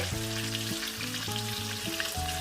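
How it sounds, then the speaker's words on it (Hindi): Green chilli masala sizzling in a pan as chili flakes are added makes a soft, steady frying hiss that sits quietly beneath a louder melodic background music track. "मैं चिली फ्लेक्स डाल रही हूँ"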